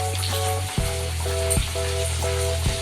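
Rolled jhinuk khaja dough pieces frying in hot oil over low heat, a steady close sizzle with bubbling that swells briefly each time another piece is dropped in, one by one, with no talking.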